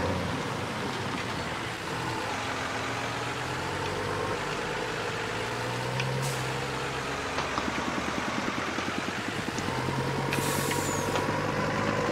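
A Home Depot delivery truck runs with a low engine rumble that holds steady, then turns rougher and more pulsing toward the end, with a couple of brief hissy bursts and no talk.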